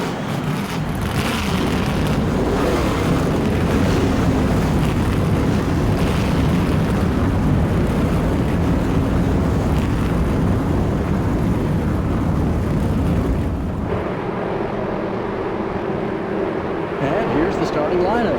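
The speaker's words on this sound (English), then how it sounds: "Gentlemen, start your engines." Race car engines start up together on the grid at Pocono in the NASCAR Thunder 2003 game on PS2, making a loud, sustained, rumbling roar that drops away sharply near the end.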